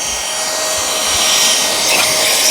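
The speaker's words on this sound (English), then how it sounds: "I like to get like a little blower and just blow it off really good" A small handheld air blower hisses steadily as it blasts dust off the paper filter of a Shark Matrix self-emptying robot vacuum, a loud close-up rush of air that swells slightly midway.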